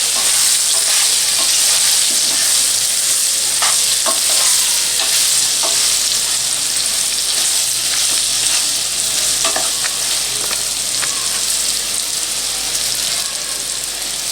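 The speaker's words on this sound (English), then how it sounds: "stirring all of the raw bananas with pieces with our mixture which we prepared" Raw banana pieces being stirred and fried in a spiced mixture of turmeric, salt, red chili powder and garam masala, a steady close sizzle with repeated scraping stirs throughout, no talking.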